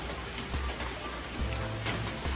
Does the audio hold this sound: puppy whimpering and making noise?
no